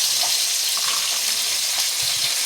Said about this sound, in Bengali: এখন আমি ভোলা মাছগুলো একে একে ভাজা করে নেব।